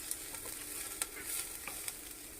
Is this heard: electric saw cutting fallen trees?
no